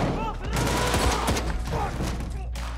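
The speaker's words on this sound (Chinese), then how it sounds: "哈迪胳膊中弹" Dense burst of automatic gunfire from a war film set at a Taliban weapons factory, rapid rattling shots with sharp cracks over the whole span, loud and close, with faint shouting voices underneath.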